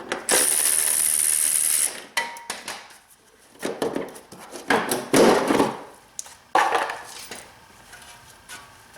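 Hand ratchet removing 8 mm bolts from a BMW 5 Series F10 front bumper, a close buzzing pawl rattle followed by scattered clicks, clanks and tool handling.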